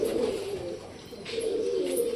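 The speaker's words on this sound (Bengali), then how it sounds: "এখনো ঘরের ভেতরে প্রচুর পায়রা রয়েছে" Inside a pigeon loft, pigeons give two drawn-out, low cooing phrases with a brief gap between them. The calls sound close, clear and steady over a light background hiss.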